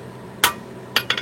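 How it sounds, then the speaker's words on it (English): A hammer strikes hot, soft wrought iron at the forge: about four sharp, ringing blows, one isolated and then three in quick succession. No voices are heard. "It definitely moves easy under the hammer."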